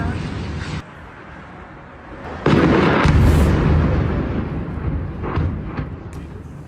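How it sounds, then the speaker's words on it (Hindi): A Ukrainian kamikaze drone strikes a crane in Moscow, setting off a loud, heavy blast that booms suddenly and then rumbles and fades over several seconds, with crackling and scattered pops, against a steady background roar. "क्रेन से टकराने के बाद जोरदार धमाका"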